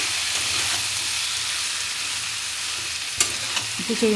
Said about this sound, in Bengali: এবার ভালো করে আমি এটাকে মিশিয়ে দেবো